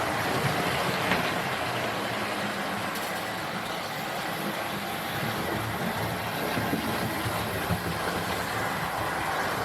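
Steady rumbling rattle of a model train running continuously on a layout, with faint clicking from the track throughout and no talking.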